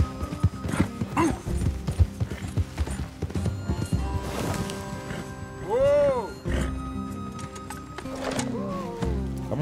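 Hooves clatter in a quick rhythmic gallop in Red Dead Redemption 2, mixed with a horse's whinny and game sound effects, fairly loud throughout.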